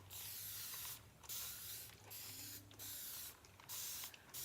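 A handheld spray bottle mists water while a dresser is being painted, five short hissing squirts spaced about a second apart, quiet and close, with mechanical rattling between them.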